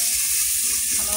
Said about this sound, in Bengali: হলুদ দেবো। নাড়াচাড়া করবো,